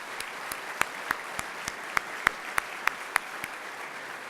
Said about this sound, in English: let's pause to give that a round of applause